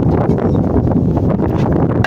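Strong wind buffets a microphone out on choppy water during a fishing trip, a loud steady low rumble with no voices.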